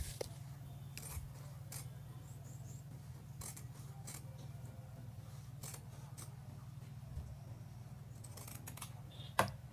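Scissors cut through fabric for a chef coat Mandarin collar, soft sharp snips at irregular intervals over a steady low hum, close and fairly quiet.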